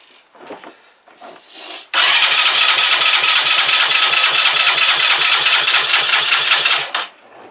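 A Keeway RKV125 motorcycle engine catches after a few quiet fumbling noises, then runs loud and close at a fast, even, buzzing idle for several seconds before cutting back abruptly.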